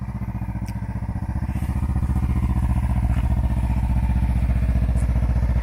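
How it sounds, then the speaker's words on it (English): Motorcycle engine idling close by, a steady low pulsing throb that grows slightly louder after the first second and runs evenly throughout with faint clatter on top. "I'm going to take the motorcycle to go see CJ's"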